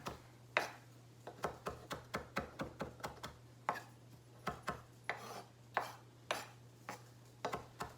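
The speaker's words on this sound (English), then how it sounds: "So I'm mincing my cilantro up really fine." Kitchen knife finely mincing cilantro for guacamole on a cutting board, a close run of crisp, rhythmic chopping taps in quick bursts with short pauses, over a low steady hum.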